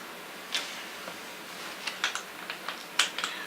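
Keys tapped on the keyboard attached to a RuggON Rextorm PX501 rugged industrial tablet, a scattering of light, quiet clicks in uneven bursts with no talking.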